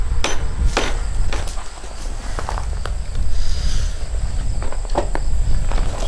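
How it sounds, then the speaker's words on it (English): A mallet taps a wooden wedge or handle down into an antique ax head, giving repeated sharp knocks spaced irregularly across several seconds, close and fairly loud with no talking. "just tap with our mallet"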